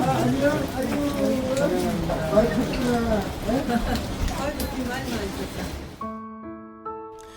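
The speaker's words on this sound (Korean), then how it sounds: "이거니까 비가 더 많이 오네." Rain falls steadily outdoors on a grey, wet day in Japan, a constant patter behind people talking, with the voices cutting out near the end as a few clear musical tones begin.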